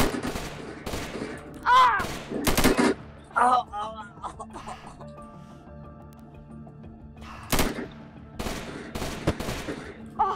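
Bursts of gunfire from the video game Unturned crack out in several loud, sharp volleys with pauses between them, mixed with a shouted exclamation and game ambience.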